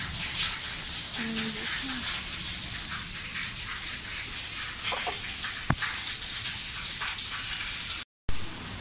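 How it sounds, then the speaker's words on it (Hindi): Steady heavy rain in Islamabad hisses across the whole clip, a dense broadband wash with a few brief knocks and faint voices underneath. "ये देखें जी कितनी तेज़ बारिश हो रही है यहाँ पे।"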